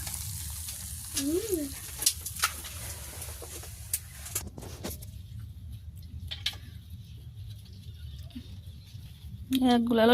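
Meat sizzles and fries in a pan during village-style Bangla cooking, a steady close crackle running throughout, with a few stirring scrapes and a brief high chirp near the end.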